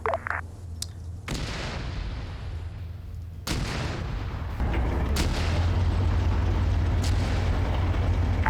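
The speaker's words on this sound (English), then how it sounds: "artillery coming in" Artillery barrage striking in a military shooter game, a steady rumbling roar with several sharp booming impacts scattered through it, heavy and continuous.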